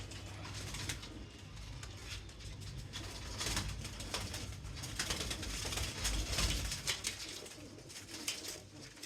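Kamagar pigeons, a father and daughter pair of dub-type birds, give soft, repeated cooing close by over a steady background murmur.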